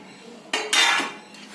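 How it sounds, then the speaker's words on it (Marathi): Mashed pumpkin, jaggery and flour being mixed in a bowl, giving a few close scraping and clinking strokes of a utensil against the dish, loudest in the middle, with no talking. "हे केलं की हे चांगलं एकत्र करून घेतलं का त्या बरोबर मिक्स होतं"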